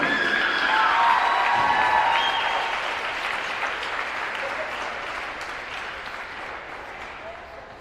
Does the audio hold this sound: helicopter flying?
no